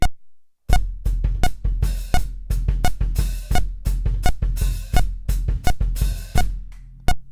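A drum kit plays a steady ostinato pattern, the foot-worked hi-hat opening on the ends of two and four and closing on one and three, with punchy close-miked hits and sizzling cymbal washes, no talking.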